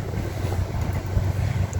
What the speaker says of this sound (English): So sorry about the train noise.